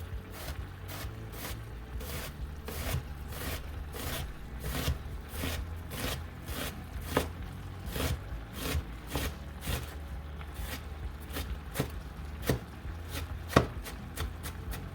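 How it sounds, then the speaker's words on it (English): A knife chops an onion steadily on a cutting board, quick regular strokes repeating close up without pause. "So chopping that up into small pieces."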